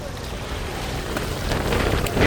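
Strong seaside wind at Mullaitivu ahead of a storm, a steady broadband roar with gusts building toward the end, mixed with surf and microphone buffeting; no talk.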